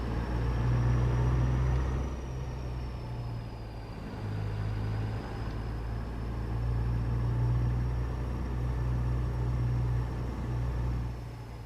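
A Jasper W900 truck engine in American Truck Simulator drones with a steady low rumble and strong harmonic hum, its pitch easing and swelling slightly as it runs continuously without any voices.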